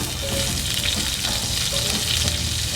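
Onions frying in a pan, a dense continuous sizzle with a low rumbling bed and faint occasional tonal squeaks, close and steady with no talking.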